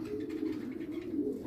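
Pigeons coo softly and steadily, low rolling calls repeating close by with no talking.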